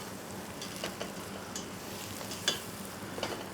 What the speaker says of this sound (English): we're just going to gently sweat that off in this lovely butter